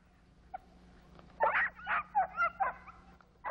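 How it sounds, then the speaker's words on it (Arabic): A group of dogs playing volleyball yip, whimper and bark in a quick run of short, high-pitched cries over a quiet background hum, fairly close, with no talking. "ترون هنا مجموعة من الكلاب تلعب كرة الطائرة على نحو غريب"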